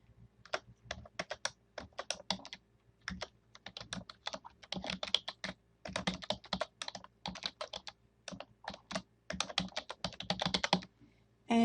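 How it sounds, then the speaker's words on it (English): Steady, fast tapping on a computer keyboard, close and clear, in irregular bursts of keystrokes with brief pauses between words, no talking. "So I'm going to type that in."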